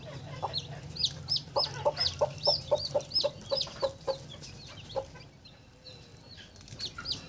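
A newly hatching desi chicken chick cries with a rapid series of high, sharp peeps, evenly spaced and close, that fade out and then return faintly over a low steady hum.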